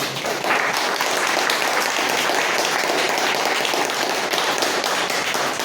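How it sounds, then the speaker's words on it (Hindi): A seminar audience at a Vestige agri-product training session applauds loudly and steadily, dense continuous clapping from many hands with no pause throughout. "मैं चाहता हूँ कि एक बार वेस्टिज के लिए जोरदार तालियां"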